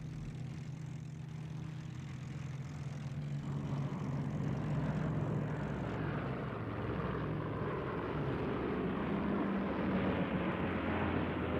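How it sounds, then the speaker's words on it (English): Propeller aircraft engines from Second World War Japanese air raids on American carriers drone as a loud, steady, continuous rumble with no talking over it. "the long-planned Japanese counterattacks by aircraft from the Philippines were unleashed on the"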